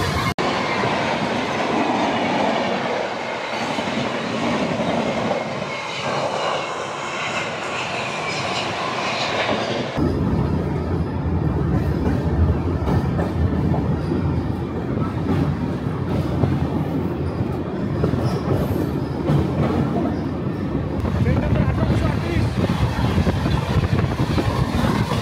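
Humsafar Express train running between Vidisha and Bina, a steady loud rumble of wheels and carriages with rhythmic clatter that grows rougher and stronger midway, continuous throughout with no talking.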